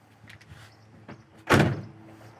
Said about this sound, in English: Doors open and close good as well.